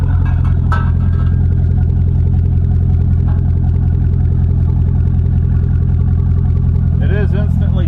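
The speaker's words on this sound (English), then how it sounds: "the LS motors do sound pretty good with Flowmasters" The LS engine of a Chevy Silverado fitted with a Flowmaster chamber exhaust idles close by with a deep, steady rumble. Near the end a few louder, rougher bursts come through.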